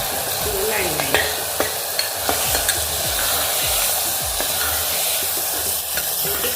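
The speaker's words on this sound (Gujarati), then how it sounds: "હવે આપણે એને સ્વાદ પ્રમાણે મરચું નાખી દઈશું, હલાવી નાખીશું" Chili powder being stirred into potatoes and green black-eyed beans frying in oil, a steady close sizzle with repeated scraping strokes of a spoon against the pan.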